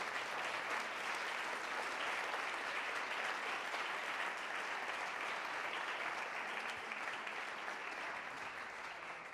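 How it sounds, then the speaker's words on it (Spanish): A congregation at a church service applauds loudly and steadily, a dense wash of many hands clapping that holds at full strength throughout. "Le damos un aplauso bien fuerte al Rey"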